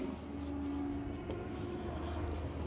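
Marker or chalk scratching across a board in a classroom setting, a continuous near scraping texture with a brief steady squeak early on, heard alone without talk.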